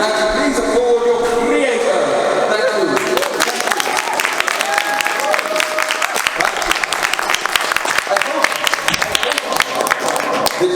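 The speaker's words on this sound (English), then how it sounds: "Please applaud your creator." An audience applauds after a comedy sketch. Dense, sustained clapping swells in over fading music and continues loudly to the end.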